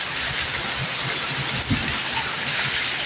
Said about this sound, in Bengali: প্রচুর পরিমাণে তো বৃষ্টি শুরু হয়েছে সেই সাথে প্রচণ্ড বাতাস